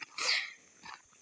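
A large dog makes a short, low vocal sound up close, a brief huffing growl followed by a softer second grunt, with no talk around it.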